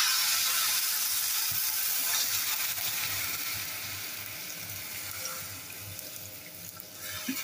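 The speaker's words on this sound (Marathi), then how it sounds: "आता आपण इथे थोडं पाणी घालूया." Water added to hot sizzling vegetables in a pan for Kerala-style sambar, a loud steady hiss and frying crackle that slowly fades, close and alone.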